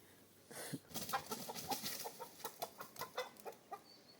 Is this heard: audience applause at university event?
no